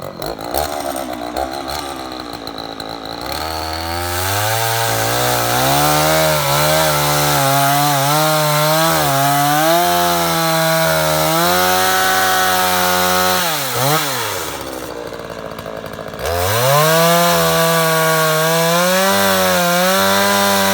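A freshly sharpened chainsaw cuts through a tree that fell over the winter, its engine whining steadily and bogging as the chain bites into the wood, with short revving gaps between cuts, close and loud with no talking.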